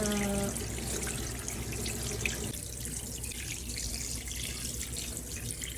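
Fish from a wholesale fish market being rinsed under a running kitchen tap, a steady splashing rush of water into a sink, fairly close, continuing throughout with no talk.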